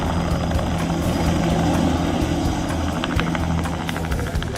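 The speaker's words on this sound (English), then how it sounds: "As the plane makes its final descent, Ted gives the stunt rider some last-minute" Aircraft engine drone during a descent, a steady loud propeller-like roar with broadband rumble throughout, no speech over it.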